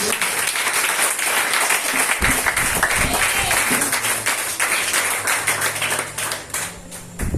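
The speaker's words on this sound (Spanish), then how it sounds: "Un fuerte aplauso a Cristo" A church congregation gives a strong, continuous round of applause during a sermon, dense clapping filling the room, with a low hum and a few voices rising beneath it toward the end.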